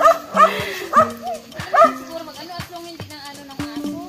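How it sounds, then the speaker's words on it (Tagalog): Dogs bark at wild boars outdoors, with sharp close barks and yips coming in quick, uneven bursts every second or so, mixed with higher whining yelps. "yung aso kasi ang kumakahol"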